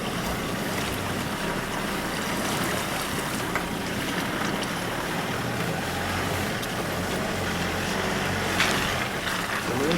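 A car rolls forward during a shuttle manoeuvre, a steady engine drone and road rumble at an even, constant level for the whole stretch, no voices.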